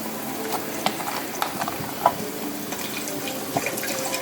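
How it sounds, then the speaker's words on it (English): Chicken broth pours steadily into a cooking pot for seasoned rice, a continuous liquid splashing and trickling close by, with a few light knocks against the vessel and no talking. "I'm going to pour the chicken broth, yes, into the cooking vessel"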